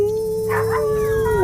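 A voice imitates a dog's howl, a single sustained, wavering tone held for over a second, close and fairly loud.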